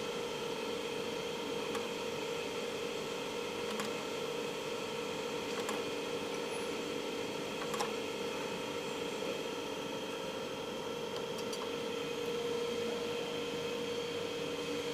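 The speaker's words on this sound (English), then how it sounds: "This is our cold welding machine" A cold welding machine, model SZ3TR, runs with a steady mechanical hum and faint periodic clicks, holding an even, moderate level throughout.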